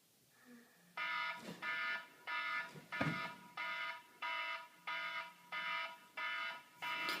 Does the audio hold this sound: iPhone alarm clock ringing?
yes